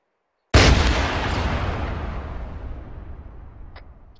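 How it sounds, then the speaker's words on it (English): AT-4 HEDP rocket fired at the front of a T-72 B3 tank in ArmA III: one sudden loud blast that rolls out into a long, slowly fading rumble, with no talk. "AT-4 HEDP versus T-72 B3 front ArmA, shot 2"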